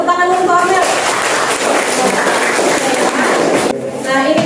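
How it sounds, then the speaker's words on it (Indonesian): A classroom of students applauds a classmate during a lesson, a burst of clapping that swells and holds, with voices talking around it. "Beri tepuk tangan untuk Amel."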